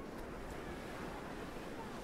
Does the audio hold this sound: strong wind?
yes